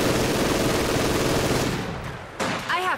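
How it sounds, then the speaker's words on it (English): Sustained infantry small-arms fire and machine-gun volleys in Company of Heroes 2, a dense continuous battlefield rattle that fades after a couple of seconds, followed by a brief sharper burst. "Enemy infantry firing on me."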